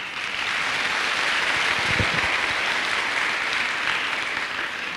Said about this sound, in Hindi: मैं चाहूंगा आप सारे लोगों के लिए एक बार जोरदार तालियां अपने लिए